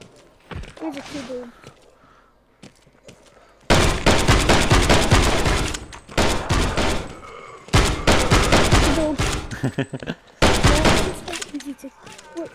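Rapid bursts of loud gunfire crackle through a co-op session of the VR zombie shooter Death Horizon: Reloaded on Oculus Quest, following a quieter opening where voices and game sounds are heard.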